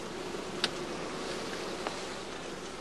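Honeybees buzz around straw skeps in a steady, dense hum, with two brief faint clicks rising over the drone.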